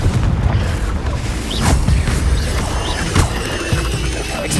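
A Confringo blasting spell in Hogwarts Legacy: loud booming bursts with crashing impacts, several sharp blasts spaced across a few seconds over a heavy low rumble.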